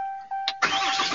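A tow truck engine cranks briefly and catches, settling into a steady running rumble, preceded by a short electronic beep tone.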